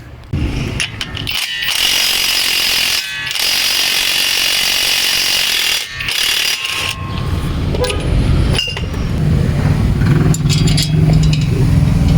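A wrench works loose the lock on a 30mm wheel hub nut of a Toyota Vios: loud, close metallic grinding and ratcheting in long stretches, broken by short sharp clanks, with no talking.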